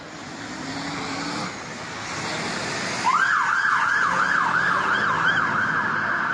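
Fire engine siren at a protest road blockade in central London, starting about halfway through as a loud wailing up-and-down sweep over a rumble of traffic and crowd noise.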